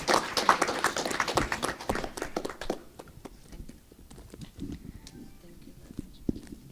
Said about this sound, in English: Let us give her another round of applause for the hard work she did to put all this together for us